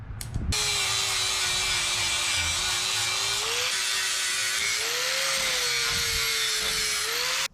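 A flap disc grinder cuts down the steel bumper of a 1970s U-Haul box truck, a steady, loud, continuous whine with a gently wavering pitch and gritty abrasive grinding underneath, running unbroken from start to finish.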